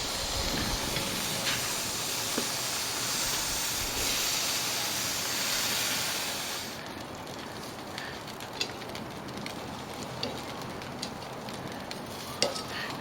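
Bread rolls sizzle in butter on a hot grill for a Mexican steak torta, with a steady frying hiss that is louder at first, then softer with a few faint clicks and scrapes.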